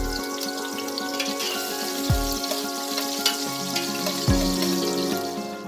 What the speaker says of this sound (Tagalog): Ginigisa ko na po yung ating ginger and onion.